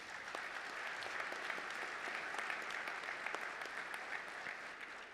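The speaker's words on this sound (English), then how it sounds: "Let's give them another round of applause." An audience at the BEYA 2020 Stars & Stripes Dinner applauds with steady, dense clapping that holds at an even level throughout, alone without speech.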